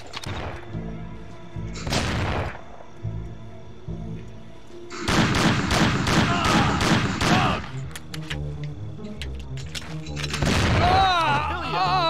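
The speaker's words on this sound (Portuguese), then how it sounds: "a troca de tiro dele é muito, muito ruim" A gunfire exchange in the video game Mafia 2, with bursts of rapid automatic fire and booming shots in loud clusters separated by short gaps, over a steady game soundscape.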